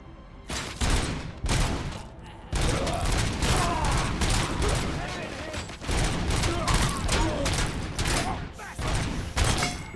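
Assault rifle fire rattles in the shooter video game Robocop: Rogue City, loud dense bursts of gunshots repeating almost nonstop with brief gaps, while someone talks over the action.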